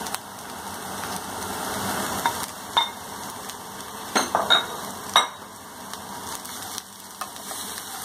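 Bitter gourd peel, onions and potatoes fry in a pan, a soft continuous sizzle with a few sharp scraping stirs and clinks of a spoon, close by with no talking.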